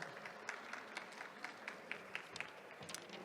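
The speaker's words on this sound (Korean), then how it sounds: "발표 진행해 주신 모빌리티 랩에 다시 한번 큰 박수 부탁드리겠습니다" Audience at a startup pitch event applauds after a mobility company's presentation, a steady wash of clapping from a crowd, fairly faint and distant, with no talk over it.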